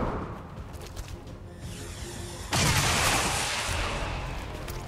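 Sharp gunfire from a tactical shooter video game, a burst of shots cracking in with a broad whooshing blast that lingers, fairly loud over a low rumbling game backdrop.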